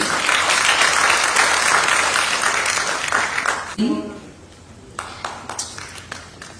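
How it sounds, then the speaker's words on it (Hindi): Loud crowd applause at an award show in Delhi rings out for several seconds, then cuts away to quieter room sound with a few scattered claps and thumps. "जोरदार तालियां एनसीआर अब तक के लिए"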